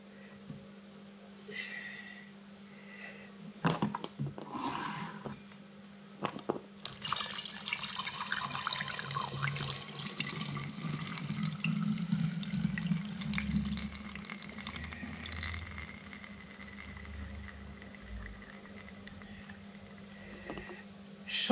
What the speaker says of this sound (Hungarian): Leszűröm a céklalét.